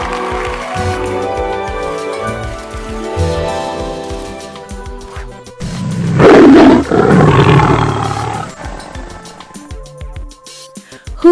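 A tiger gives a loud, close, drawn-out roar that swells into deep rumbling growls and then fades, followed by a short final snarl, in an animal sound quiz.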